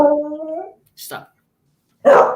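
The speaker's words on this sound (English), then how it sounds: "Oh, that's the dog." A dog gives a short, tonal whining yelp close by, followed after a pause by brief human speech.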